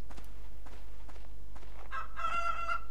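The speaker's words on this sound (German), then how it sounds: "Was sagen denn unsere Hühner?" Chickens in the medieval survival game Life is Feudal, a few soft broken clucks and calls rising over a steady low background hum, with a sustained tonal call near the end.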